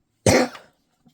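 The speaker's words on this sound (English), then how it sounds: "Coughing fit happening here." One short, sharp cough, close and loud, then silence with a faint trailing breath.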